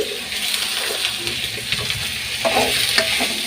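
Crab sautéing in a pan sizzles steadily while a utensil stirs it, with scraping and light bubbling close up.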